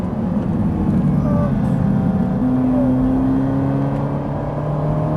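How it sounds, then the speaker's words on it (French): A Ferrari 458 on a race circuit under hard acceleration, a steady loud engine drone with a rising tone as it pulls through the gears, heard from inside the car. "Allez, on accélère à fond, c'est parti."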